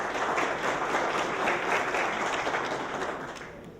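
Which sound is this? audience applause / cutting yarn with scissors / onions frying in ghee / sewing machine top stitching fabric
audience applause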